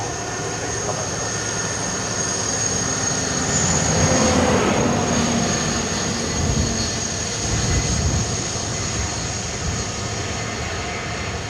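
A Ryanair jet rolling for takeoff at Dublin Airport, bound for Stansted, its engines building into a broad roar that swells near the middle and then settles into a steady rumble, with a thin high whine running over it.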